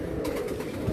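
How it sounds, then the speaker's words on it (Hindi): A pigeon gives a soft, low coo, brief and fairly faint, heard close by in a short burst. "बहुत अच्छा कबूतर है माशाल्लाह।"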